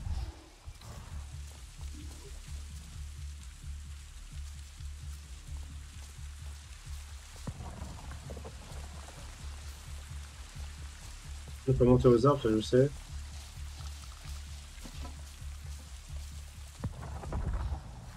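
Steady rain hissing in the game Avatar Frontiers of Pandora, a soft continuous patter under someone talking, with a brief louder burst of sound partway through.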